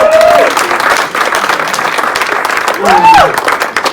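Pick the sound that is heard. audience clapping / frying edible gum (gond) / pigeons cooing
audience clapping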